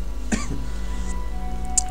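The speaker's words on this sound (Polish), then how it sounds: "ten kaszel zaczyna mnie znów męczyć" One short, rough cough rises and drops quickly, followed by a brief throat-clearing sound, close and fairly loud over a steady background hum.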